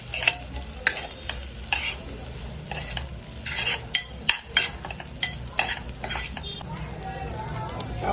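Rice flour and semolina roasting in a pan while being stirred, with repeated scraping and clinking strokes of a spoon against metal over a soft steady sizzle, close and fairly quiet.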